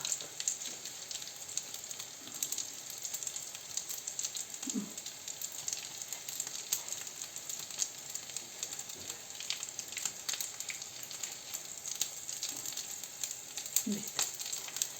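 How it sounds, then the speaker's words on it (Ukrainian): A steady, fairly quiet sizzle of meatless bean patties frying in a pan continues throughout, with a couple of soft knocks and no talking. "Я посмажу"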